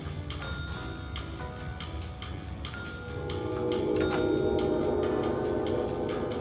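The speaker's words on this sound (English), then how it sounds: "I don't know if this world is liking me pressing the bell so much" A small bell rung repeatedly in the video game Control, several bright metallic dings with ringing decay, quiet and close, followed by a rising sustained tone in the later half.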